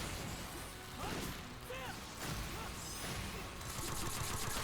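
Shotgun blasts in the video game Sword Art Online: Fatal Bullet, several sharp, fairly quiet bangs scattered among clattering game effects with no speech.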